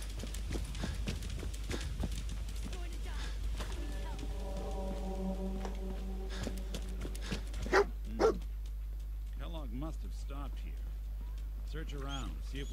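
A dog in the video game Fallout 4 gives a few barks and whimpers among in-game footsteps, with someone talking over much of it.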